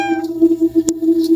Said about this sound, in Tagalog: Sabi nun ni Mikey, baka pusa lang daw na naglalaro.